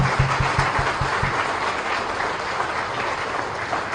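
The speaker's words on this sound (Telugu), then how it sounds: "మన జీవుణ్ణి మనం లేపుకోవడానికి చప్పట్లు కొడదాం గట్టిగా" An audience at a Telugu religious discourse bursts into loud, dense clapping that starts with a few sharp claps and then holds as steady sustained applause.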